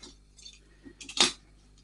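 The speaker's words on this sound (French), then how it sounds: "On vient couper cette petite languette" Scissors cut a small tab on a paper scrapbooking pocket: a few soft snips building to one sharp, brief crunching cut, close and quiet, with no voices.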